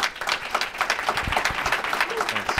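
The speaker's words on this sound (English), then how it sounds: "Let's give our panel a round of applause." A town hall audience applauding a panel, with a dense, close patter of clapping hands that comes in uneven bursts, while a voice carries on underneath the applause.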